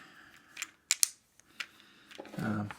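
A power bar cord end being cut off with a tool: a couple of sharp, close snips and clicks, followed by rustling and handling sounds. There is no talk over them.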